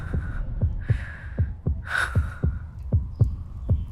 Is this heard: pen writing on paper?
no